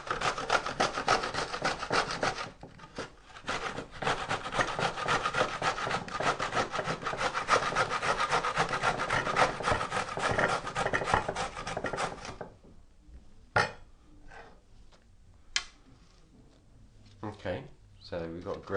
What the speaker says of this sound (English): So this time I'm grating it.